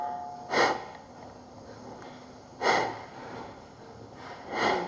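Forceful nasal exhales from Kundalini breath of fire practice, three strong puffs spaced about two seconds apart, close up with quiet in between.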